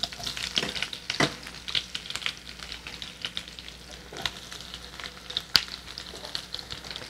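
Onions sizzling in a hot pan, a soft crackling fry close by with occasional sharper pops and stirring clicks scattered over the steady hiss.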